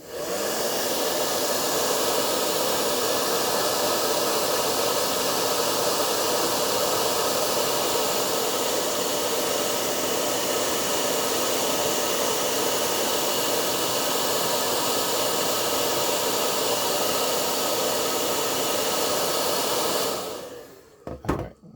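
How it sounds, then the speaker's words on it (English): A blow dryer roars in a loud, continuous rush of air for about twenty seconds while heating and softening the plastic of a WWE Mattel Elite action figure, then switches off with a few soft handling clicks. "you don't want to put so much heat on this, especially with a blow dryer"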